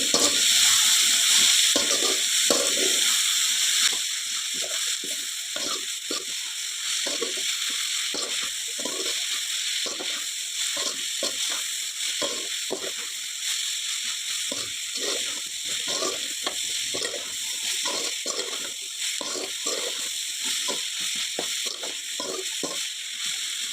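Fried rice ingredients fry in a pan with a continuous close sizzle. A spoon or spatula stirs and scrapes them in quick, rhythmic strokes throughout, and the sizzle is louder at the start. No one speaks.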